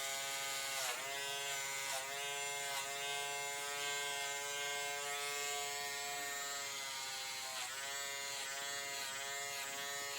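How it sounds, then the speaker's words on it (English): A small handheld peanut hair clipper runs steadily through a men's home haircut, its bright electric buzz close and continuous, with brief dips where the blade shifts against the hair. "You can use a larger clipper too. A lot of people do. I kind of like the little handheld peanut."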